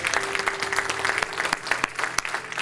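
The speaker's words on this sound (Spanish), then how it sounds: "Denle ese aplauso al Señor" Congregation applause for the Lord during a Spanish-language church sermon, a dense, steady clapping from a crowd with a faint held tone beneath, continuous and fairly loud throughout.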